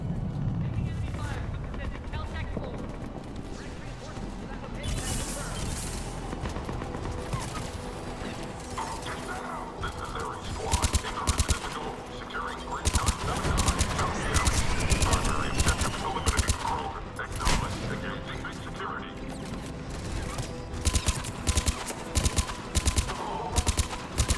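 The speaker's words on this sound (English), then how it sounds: "I don't much like this rifle." Rifle gunfire in Mass Effect 3 rattles in rapid bursts and single sharp shots through a busy battle soundscape, growing denser and louder in the second half, with talk over the action.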